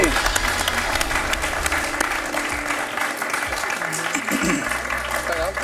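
A television quiz show studio audience applauds a contestant, steady sustained clapping from a crowd heard close and fairly loud, while a presenter's voice talks over it.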